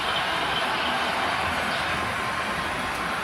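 A steady, continuous rumble and hiss of a small train running, even and unbroken throughout, with no voices.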